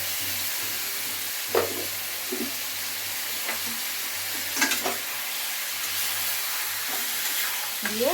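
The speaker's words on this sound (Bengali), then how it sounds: "দিয়ে এখন আমি এটা নাড়বো, মানে কষবো।" Chicken frying with onion, tomato and garlic paste for chicken kosha gives a steady soft sizzle, broken by a few scattered scrapes of stirring, with a low hum underneath.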